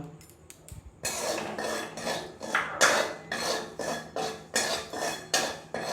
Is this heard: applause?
no